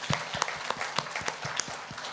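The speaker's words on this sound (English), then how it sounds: "I would request all of you for a round of applause for the Fibre app in BSNL." Applause at a BSNL Bharat Fibre felicitation event in Kodaikanal, with distinct individual claps spaced fairly evenly across the room, moderate in level and sparse rather than a dense roar.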